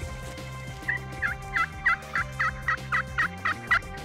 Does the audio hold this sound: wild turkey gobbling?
yes